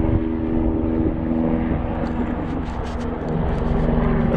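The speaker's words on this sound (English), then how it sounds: "that even though we got, like, this helicopter flying over right now" A police helicopter flies overhead, its loud, steady rotor and engine drone rumbling continuously and swelling slightly toward the end, with no talking.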